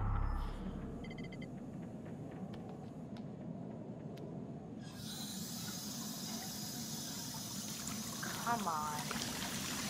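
Water running into a bath in the video game Until Dawn, a steady hissing trickle that swells sharply about halfway through and continues, with a voice speaking briefly over it.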